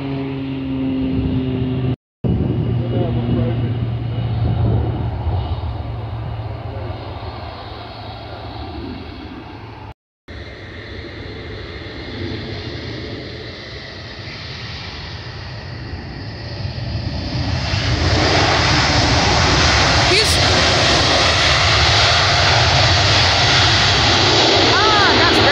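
An airplane's engines roar continuously, swelling into a loud broad rushing whoosh as it powers up and takes off from Fort Lauderdale-Hollywood International Airport runway 10R, with brief voices in the background.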